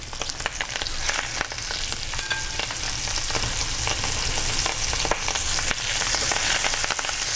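Washed, chopped kale sizzles loudly in a hot frying pan, a steady crackling hiss with dense popping and occasional stirring scrapes, close and continuous without talk.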